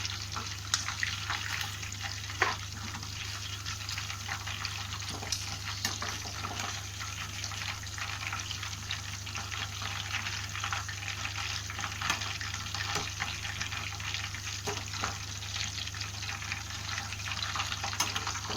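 Chicken 65 deep-fries in a pan of hot oil, bubbling and crackling in a steady, dense sizzle with scattered sharp pops over a low electrical hum.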